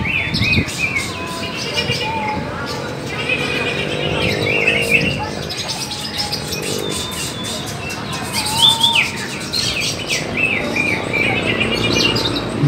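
Green leafbirds (cucak hijau) singing at an outdoor songbird contest for an anniversary event, a dense mix of loud, continuous chirping and warbling phrases from several birds, with faint background noise.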